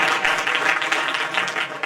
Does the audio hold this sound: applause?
yes